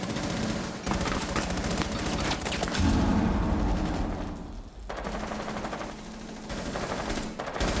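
Sustained bursts of automatic gunfire in Rainbow Six Siege during a competitive match, loud and continuous with brief lulls and no talking.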